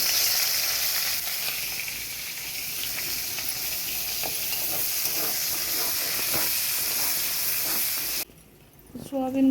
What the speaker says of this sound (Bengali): অল্প লবণ হলুদ দিয়ে দেবো। তো পেঁয়াজ কুচি দিয়ে দেবো।